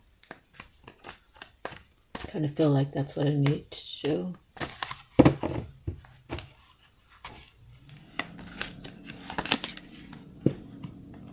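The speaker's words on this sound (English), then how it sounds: "I'm still going to shuffle for one more" Tarot cards being shuffled by hand, with soft papery riffles and quick clicking taps that come mostly in the second half, under and between steady talking.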